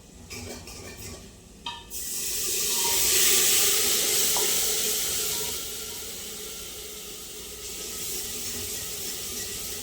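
Two spoonfuls of water poured into a hot pan of vegetables burst into a loud hissing sizzle that swells, then settles into a steady bubbling hiss.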